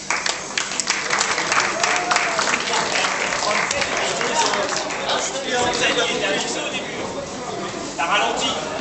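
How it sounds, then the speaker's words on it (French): A crowd applauds the finishers of a mini-Z radio-controlled car race final in Niort, steady clapping mixed with cheering and chatter throughout, with voices audible in the background. "je crois qu'on peut les applaudir"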